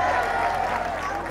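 Brief burst of audience applause at a school visit by the Rayon Sports football club, a steady loud wash of clapping and crowd noise.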